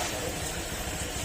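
A Honda Click125 V3 scooter engine idles smoothly and steadily at close range, with a continuous, even hum and no speech.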